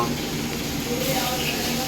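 Fresh Padma hilsa fish frying in oil at a riverside eatery on Mawa ghat, a dense continuous sizzle and hiss, close and steady throughout.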